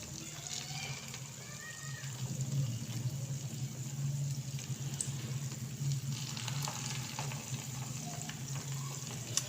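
Spoonfuls of rice batter drop into hot ghee and fry with a steady, close bubbling sizzle that runs the whole time, with no talking.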